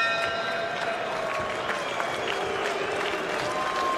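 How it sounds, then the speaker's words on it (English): Boxing arena crowd showing disapproval after a Floyd Mayweather fight with O'Shields, a dense, steady wash of many voices and scattered clapping that fills the space evenly throughout. "Crowd showing some disapproval."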